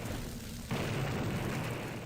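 A muffled explosion in the game Blood booms partway through, followed by a sustained rumble of noise.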